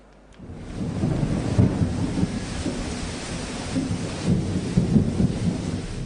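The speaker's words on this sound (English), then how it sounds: "The rains have started." Steady rain with low rumbling thunder rolling through a storm, a continuous loud wash of noise with deeper swells of rumble, no voices.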